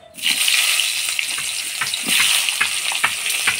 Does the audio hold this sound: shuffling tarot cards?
no